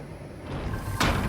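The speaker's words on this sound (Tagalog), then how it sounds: "Automatic yung pinto nila." A sliding automatic door opens inside a house in the horror video game Silent Hill f, giving a single loud whooshing slide close by over a low ambient hum.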